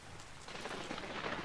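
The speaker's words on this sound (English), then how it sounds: "Oh, did you hear that lightning?" Thunder from a lightning strike during a rainstorm in the video game Vintage Story, a faint low rumble that builds under steady rain hiss.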